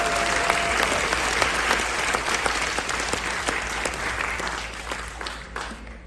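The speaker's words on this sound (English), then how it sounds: "So please give yourselves a round of applause for the amazing job" An audience at a gathering aboard a cruise ship breaks into sustained, dense applause, many hands clapping steadily and evenly for about six seconds before tapering slightly at the end.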